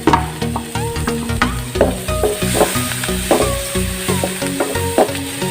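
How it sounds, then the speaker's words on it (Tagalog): White onion sizzles in a hot pan for an Ilocano dish, a steady bright frying hiss broken by repeated clinks and scrapes of stirring, with low tonal music-like lines running underneath. "Ilagay na po natin tong ating sibuyas. White onion po to."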